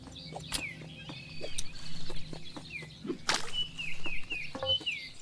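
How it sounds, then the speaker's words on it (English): Chickens in the video game Grunn clucking in a garden, scattered short clucks and squawks with a sudden burst of flapping, set over a faint background. "can I smash these chickens?"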